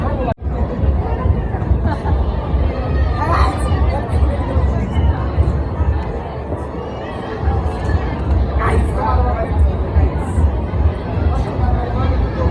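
A dense crowd chatters continuously at a London Bridge replica in Baramati, a steady babble of many overlapping voices all around, loud and unbroken from start to finish.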